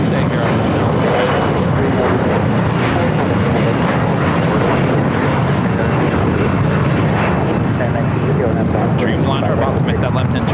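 Airliners push back and taxi at LAX: a loud, continuous roar of jet engines fills the whole stretch with broadband rumble, and a voice talks over it.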